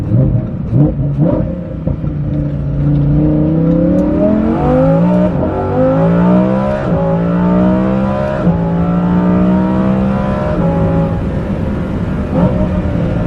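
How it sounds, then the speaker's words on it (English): A Lamborghini Huracán Performante with a Kline-Innovation valvetronic exhaust revs repeatedly, climbing and falling in pitch with a throaty, loud roar close by, no talking. "videos do the exhaust sound of this Kline-Innovation system no justice whatsoever"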